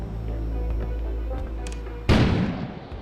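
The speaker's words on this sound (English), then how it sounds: "An explosion suddenly occurred outside." A sudden loud explosion outside in the video game Kona, a sharp boom about two-thirds through that decays into rumbling debris after a low steady hum.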